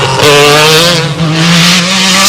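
A 1985 MG Metro 6R4 rally car driven hard, its engine note loud and close as it climbs steadily through the revs, with brief tyre squeal under the continuous roar.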